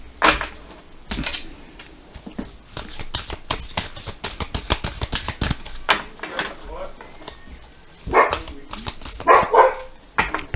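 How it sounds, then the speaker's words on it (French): A dog barks several times in short, sharp bursts, loud and close, with a louder cluster near the end, while people talk nearby and other scattered household noises mix in. "mais il y a les voisins qui parlent et le chien qui aboie."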